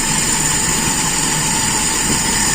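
A motorcycle engine with a carburetor set to a lean idle mixture runs at a steady idle, a constant close droning hum with no pauses.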